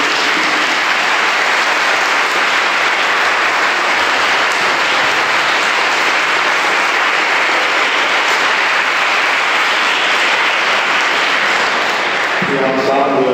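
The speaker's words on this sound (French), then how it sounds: "nous pouvons nous applaudir." A church congregation claps together during a Mass of Joy in Sigean, with the blessing of Christ-child figures. The applause is loud and sustained for over twelve seconds, then fades as a voice begins at the end.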